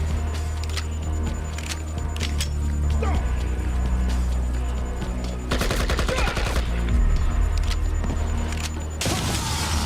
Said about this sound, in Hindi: ये ग्रेनेड किसने फेंका है?